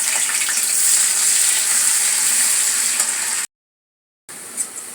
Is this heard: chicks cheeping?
no